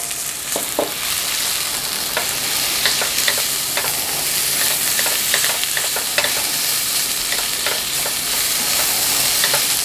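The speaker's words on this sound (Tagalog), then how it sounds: "Igisa ang bawang. Then isunod natin yung ating luya. Sunod natin yung ating sibuyas." Garlic, ginger and onion sauté in hot oil in a pan, making a loud, steady sizzle close by with scattered scraping stir strokes and no voices.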